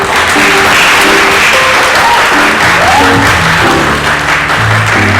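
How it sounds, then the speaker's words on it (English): Loud, sustained audience applause for a jazz trio's musicians on stage at Albany State University, a thick continuous roar of clapping with faint tonal sounds and brief voices mixed underneath. "How about a nice round of applause?"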